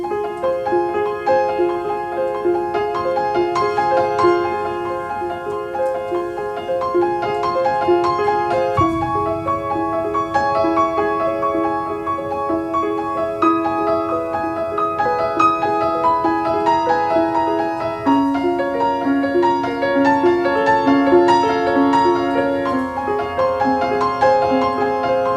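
A 7-against-5 polyrhythm, each part cycling through only three notes and drifting in and out of phase, forms a dense, steady pattern of sustained pitched tones with no voices.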